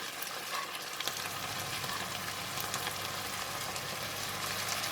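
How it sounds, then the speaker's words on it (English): Bean sprouts with salted fish stir-fry in a pan, giving a steady, close crackling sizzle with light stirring throughout and no talk. "Just a couple of stir, then we're done."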